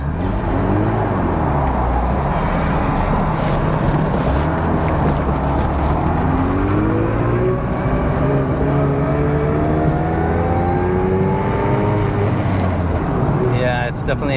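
Mazda RX7 engine revving while driving, a loud continuous drone with pitch sweeps rising and falling unevenly as the throttle hesitates at a flat spot, heard from inside the car.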